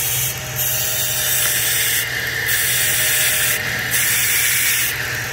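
A Dodge or Jeep engine idles with a leaking intake gasket O-ring. A steady low hum runs under a hissing surge that comes back about every second and a half, loud and close, with no talking.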